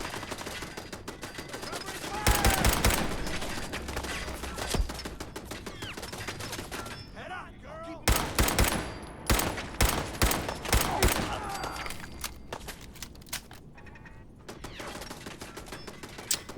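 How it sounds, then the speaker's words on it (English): Automated turret gunfire in Fallout 4, rapid loud bursts of shots cracking off metal in clustered volleys with brief pauses between, close and sharp, a ricochet-heavy clatter filling most of the stretch. "Okay, so the turrets can just shoot through solid metal."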